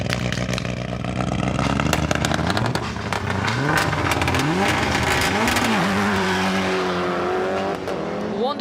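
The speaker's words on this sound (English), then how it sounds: "The throaty sound of the exhaust there." A Toyota Celica GT4 rally car's throaty exhaust crackles and revs repeatedly on a forest rally stage, engine pitch rising and falling in bursts, loud and close with sharp pops.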